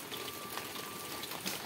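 Rain pours steadily outside over a backyard, making an even, soft hiss throughout with a few slightly louder splashes and no speech.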